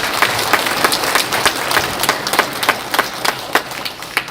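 Audience at a book concert for a National Assembly member in Jung-gu, Daejeon, clapping in scattered, uneven bursts, with individual sharp claps standing out from a thin, moderately loud round of applause.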